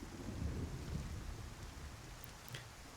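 Heavy rain hammers down in a Skyrim thunderstorm, a dense, steady hiss over a low rolling rumble of thunder that swells early and fades, with a couple of brief crackles near the end and no talking.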